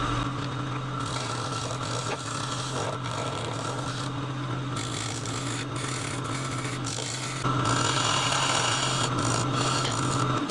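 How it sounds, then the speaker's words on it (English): A woodturning scraper cuts a dovetail into a wooden tenon spinning on a lathe, giving a steady, close rasping scrape over the motor's constant hum that swells louder near the end. "I'll get my scraper and make the dovetail in the tenon"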